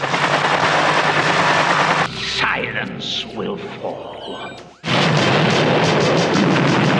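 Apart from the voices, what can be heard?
gunfire in film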